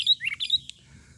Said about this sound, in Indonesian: Di depan layar teman-teman ada 3 burung kutilang